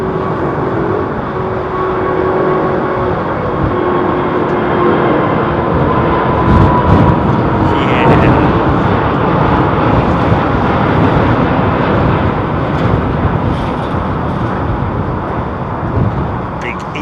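A low-flying airliner passes overhead near Heathrow with a loud, sustained engine roar that swells slightly mid-pass, while people talk over it.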